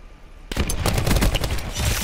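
Loud gunfire erupts abruptly in the video game Call of Duty: Black Ops 4, a dense, continuous volley of overlapping shots and impacts that fills the rest of the moment with no talk.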